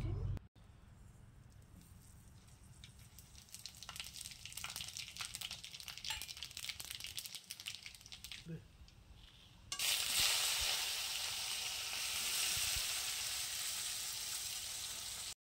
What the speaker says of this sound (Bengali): তোমরা তো দেখলেই আমি ফোড়নটা দিয়ে দিলাম